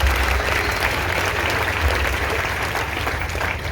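Relatives and church members applaud at a priestly ordination ceremony, a loud, steady wash of many hands clapping close by throughout.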